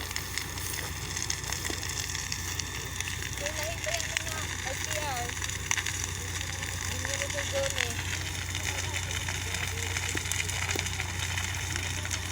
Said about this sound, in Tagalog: talagang lumaki yung sunog, makikita mo